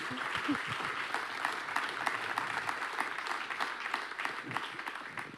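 An audience claps steadily, a dense patter of many hands at moderate volume that holds throughout without fading.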